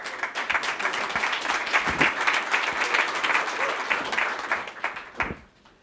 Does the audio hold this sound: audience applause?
yes